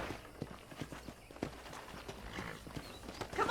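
Horse hooves clip-clop at a walking pace in Red Dead Redemption, a steady run of soft, close hoof strikes over faint ambient background.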